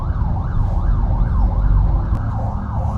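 Ambulance siren wailing on a busy city street in Bangkok, Thailand, a steady rising-and-falling sweep repeating every half second or so, loud and close over rumbling traffic.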